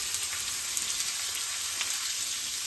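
Cumin, bay leaves and cinnamon fry in hot oil for a prawn masala, giving a steady, even sizzle and crackle close by, with no talking.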